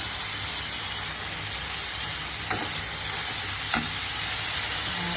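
Cumin seeds, dried chillies and spices sautéing in hot oil in a pan, giving a close, even hiss and sizzle with two quick clicks from a stirring utensil.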